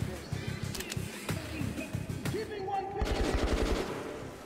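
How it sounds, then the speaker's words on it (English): Gunfire rattles in the video game Metro 2033 Redux, with scattered shots followed by a denser rapid burst of automatic fire, moderately loud amid game ambience. "Is somebody shooting at us?"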